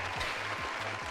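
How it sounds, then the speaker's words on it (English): Audience applause and cheering at a live Intellivision retro gaming event, a steady dense clatter of clapping with crowd noise filling the short stretch, with a low rhythmic hum underneath. "a little bit of applause and cheers for Mr."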